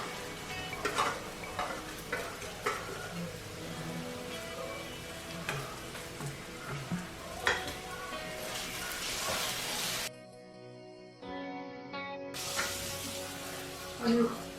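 Ground masala paste of garlic and spices frying in a pan for Goan prawn vindaloo, a steady close sizzle with occasional stirring scrapes, briefly dropping away before the frying noise returns.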